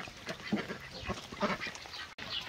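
Ducks on a homestead farm in Mapua, faint and somewhat distant quacking and calling in a busy outdoor background, with no talking.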